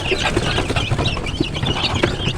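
Kampung hens and newly hatched chicks cluck and cheep continuously around a backyard coop, a busy, fairly close layer of soft calls with no speech over it.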